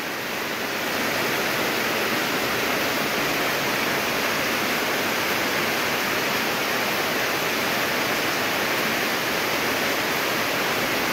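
Heavy rain falls as a steady, dense, hissing roar that stays loud and unbroken throughout, with no voices.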